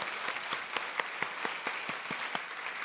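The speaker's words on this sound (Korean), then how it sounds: "그 하나님께 영광의 박수 올려드리겠습니다" A church congregation applauding during a sermon, a steady wash of many hands with sharper individual claps standing out at a regular pulse, moderately loud and continuous.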